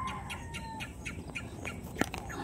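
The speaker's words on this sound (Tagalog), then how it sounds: "Ang kulit ng tunog ng ano, ibon." Birds calling outdoors, a string of faint repeated chirps and short squawks over a soft background hum, with one sharper call standing out near the end.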